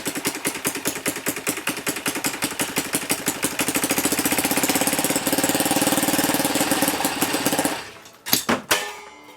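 A metal 3D-printed gasoline engine, flooded with fuel, runs with a loud, rapid, steady firing rhythm for about eight seconds, then cuts out abruptly, followed by a few sharp clattering knocks near the end.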